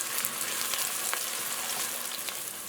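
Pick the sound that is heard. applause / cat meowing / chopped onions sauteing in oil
chopped onions sauteing in oil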